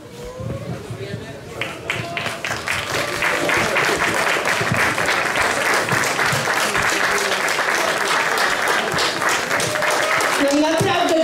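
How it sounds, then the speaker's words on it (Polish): Loud, sustained applause from a crowd at an award ceremony for a river rafting event, building up after a voice at the start and rolling on as dense continuous clapping, with a voice speaking over it near the end. "No naprawdę gromkie brawa."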